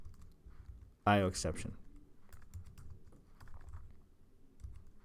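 Typing on a computer keyboard while writing Java code, a quick burst of clicking keys under a man's spoken words, then scattered lighter keystrokes.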